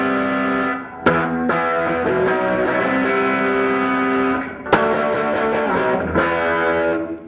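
Electric guitar with a distorted, effects-processed tone, three open strings left ringing to produce harsh, dissonant tones; sustained chords with sharp re-strikes around one and five seconds, played loud and alone without talk.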